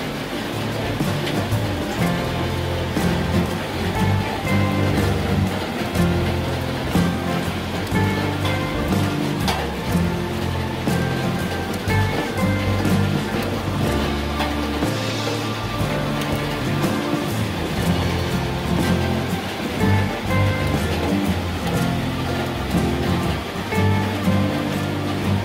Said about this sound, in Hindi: सो थोड़ी देर बारिश एंजॉय कर लिया जाए